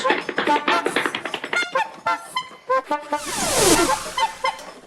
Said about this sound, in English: I must do something to stop their mad honking.